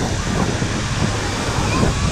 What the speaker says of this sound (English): a little waterfall right here